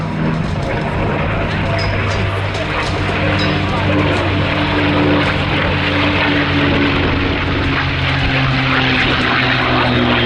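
A propeller-driven primary trainer biplane of the kind used for American aviators in World War II, fitted with a 300-horsepower engine, droning loudly and steadily at an airshow flying display.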